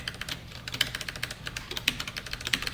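Quiet, rapid typing on a computer keyboard while entering Java code, a steady stream of light key clicks with a few sharper taps, close and alone without talk.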